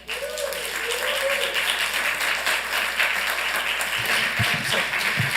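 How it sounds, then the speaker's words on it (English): Dense applause from an audience at a Santa Ana city council meeting fills the room steadily, with some low thumps near the end and voices murmuring beneath it. "We're not going to do the clapping,"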